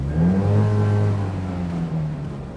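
Small rear-engined Polski Fiat revving and downshifting, a low buzzy engine note that swells briefly, then dips and eases off in a short burst close by, with no talking.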